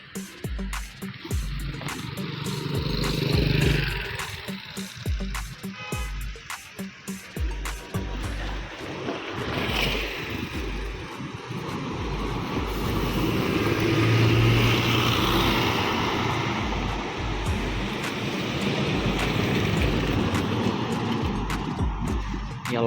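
A JRG bus drives past, its engine rumble swelling and fading as it goes by, with other traffic noise around it.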